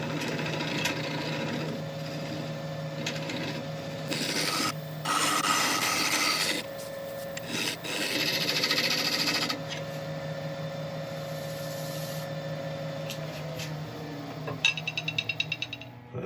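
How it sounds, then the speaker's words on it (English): A scraper working the inside of a burl wood bowl spinning on a lathe, giving a continuous close rasping hum that shifts in intensity as the tool moves, ending with a few rapid rattling ticks. "I was going to get a scraper in there just to sort out that little bit."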